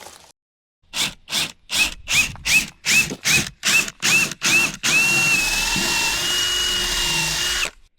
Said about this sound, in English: If you've ever drilled the hardy board, it doesn't drill real well.